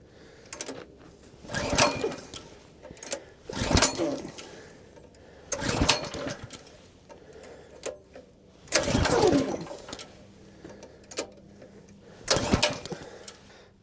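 Harbor Freight Predator 212cc small engine being pull-started repeatedly without catching: six or seven sharp rattling bursts of cranking, roughly two seconds apart, each dying back to near quiet.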